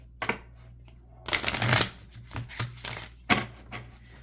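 Affirmation cards being shuffled nearby in a quiet room, a few short riffles and flicks, then a longer dense shuffle followed by scattered card slaps and taps.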